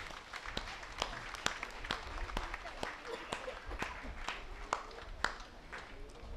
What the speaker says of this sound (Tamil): சத்தமாக கைத்தட்டி அவர் நன்றி செலுத்துவோம்